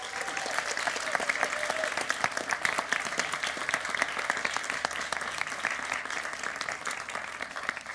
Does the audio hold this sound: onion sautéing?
no